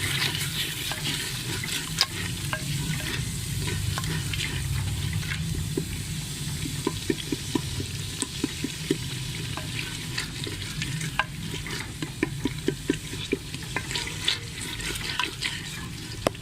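Onion and spices with salt and turmeric frying in a pan for a potato curry, a steady close sizzle broken by quick clicking stirs that grow more frequent toward the end, with no talk.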